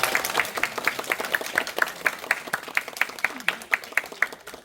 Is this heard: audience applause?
yes